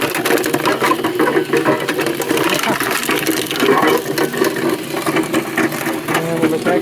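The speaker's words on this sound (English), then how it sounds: "And we'll let that grind" Solar-powered 240-volt plastic shredder grinding hard plastic, a busy mechanical whirring and rattling churn that runs steadily throughout, loud and close, with someone talking over it.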